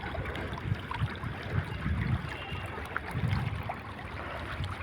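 River waves slosh and lap at the Baraipara ferry ghat in Kalia, Narail, a steady close wash of water with heavier surges rolling in around the second and third seconds.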